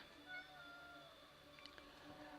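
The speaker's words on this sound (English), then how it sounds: "What do you want, cat? Hey, sitting there meowing." Domestic cat meowing softly and faintly, a brief cry rising over a quiet background with steady tonal hum throughout.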